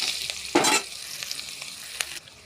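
Chopped onions and curry leaves frying in a pan for a rohu fish head and potato curry, a loud burst of sizzle and stirring near the start, then steady crackle with occasional spatula scrapes.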